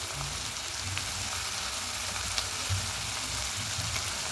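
Chopped onion and tomato fry gently with salt in a pan, making a soft, continuous sizzling hiss that stays even throughout with no talking.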